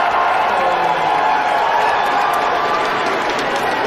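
A poker crowd at the World Series of Poker Main Event final table cheers for Phil Ivey, a loud, sustained roar of voices and applause filling the room throughout.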